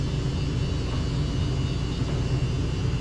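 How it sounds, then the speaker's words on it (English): Slide-out motor on a 2023 Dutchmen Astoria 1500 Series travel trailer running at a constant low, droning hum, steady and unbroken with a faint whine on top, close by and without voices. "You'll hear the motor actuate and start running."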